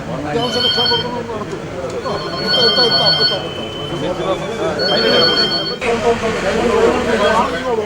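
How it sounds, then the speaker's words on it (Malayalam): A telephone rings at a fire station in repeated bursts of bright electronic trills, with people talking continuously underneath and a busy room noise around it. "ഇടതടവില്ലാതെ ചിലയ്ക്കുന്ന ഫോൺ"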